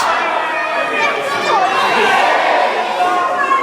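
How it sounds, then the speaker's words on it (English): A wrestling crowd chants along with a referee's ten count after both men go down, loud massed voices rising and falling with a sung quality over arena noise. "You can hear the crowd chanting along"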